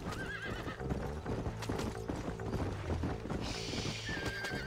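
Horses whinnying and clip-clopping in the video game Red Dead Redemption during a barn fire, a shrill neigh early on over steady hoofbeats, with game music and effects layered beneath.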